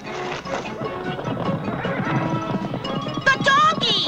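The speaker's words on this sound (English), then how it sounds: "The donkeys!" Cartoon donkeys bolt off with busy, clattering hoof sounds amid chaotic crashes and excited voices, loud and close, with a braying or whinny-like squeal near the end.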